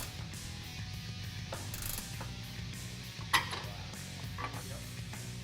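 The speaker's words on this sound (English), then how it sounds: "Remove the 3rd bolt with an 18mm wrench." An 18mm wrench works a bolt on a 2015-2018 Ford F-150 differential mount, with faint ratcheting clicks and one sharper metallic clank over a steady low hum.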